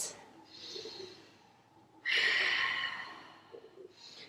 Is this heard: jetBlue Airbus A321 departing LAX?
no